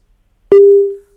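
A single loud electronic tone cuts in abruptly and holds steady for about half a second before fading, marking a dropped phone line during a live TV call-in. No other sound surrounds it.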